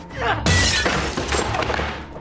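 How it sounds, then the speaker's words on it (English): A wooden chair smashed hard against a reinforced window: a sudden loud crash with a sharp glassy shatter, followed by rattling debris and scattered impacts fading over about two seconds. "she grabbed a chair and smashed it against the window"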